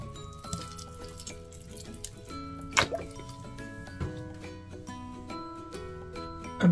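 Lemon juice dripping onto Lahori chana chaat, a string of close, soft wet drips and plops with one sharper splash, over faint kitchen background.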